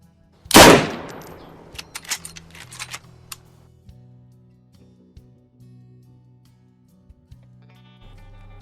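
Gunfire from the video game DayZ: one loud, sharp shot rings out, followed by several quicker, fainter cracks and clanks, then a low game hum, with no talking.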